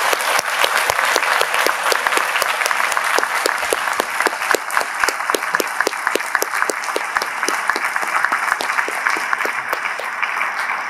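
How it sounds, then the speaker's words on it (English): Sustained audience applause after a university debate on whether God is one or three divine persons, a dense steady wash of many hands clapping with sharp individual claps standing out, loud and unbroken throughout. "Can we please get one more round of applause"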